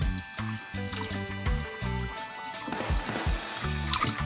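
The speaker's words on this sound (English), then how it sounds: "So now guys, I'm gonna wash the bulgur." Bulgur wheat being swished and rinsed in a bowl of water in a kitchen, soft sloshing and trickling under a steady rhythmic musical background.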